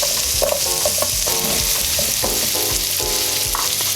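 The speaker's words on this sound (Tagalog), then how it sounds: "simulan na po natin ang ating paggisa. Butter, sibuyas," Onion and garlic sautéing in butter for a creamy chicken sopas, a steady close sizzle with the spoon scraping and clinking in irregular bursts, no talking.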